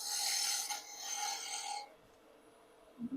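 A woodturning tool cuts a wooden baby rattle on a lathe, giving a close, bright rasping scrape for nearly two seconds before it lifts off and leaves a quiet hum.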